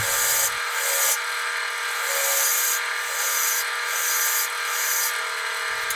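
A steady, close scraping hiss of a woodturning tool taking the final layers off a spinning wood and resin bowl, continuous and fairly loud, with no talking.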